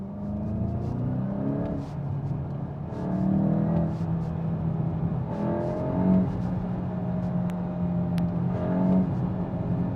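A 2023 VW Golf GTI engine hums and revs steadily from inside the cabin in second gear, rising and falling with throttle, with faint exhaust pops barely audible when lifting off.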